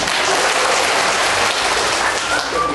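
Children clapping together at a children's puppet show, a dense, loud, continuous burst of applause with no pauses.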